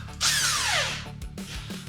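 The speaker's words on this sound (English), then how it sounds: "Now we're going to see if we can get that nut off at 1 5/16 inches." A power tool spins up on a 1 5/16 inch nut on a Harley Shovelhead engine bottom end, giving a loud whirring burst whose pitch sweeps downward as the tool bites, followed by a short rattle.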